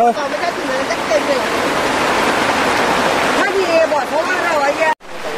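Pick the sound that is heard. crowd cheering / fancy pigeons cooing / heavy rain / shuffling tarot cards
heavy rain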